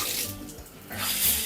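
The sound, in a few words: hotel shower running water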